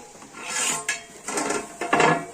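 A metal lid set down on a pot of chicken cooking for a two-kilogram biryani, a few bright clanks and scrapes of metal on metal, close and fairly loud, with no voices.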